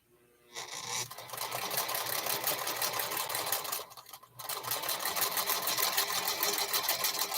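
A Singer Featherweight sewing machine stitches quilt pieces, a steady close whirring rattle that starts, pauses briefly and then runs on again.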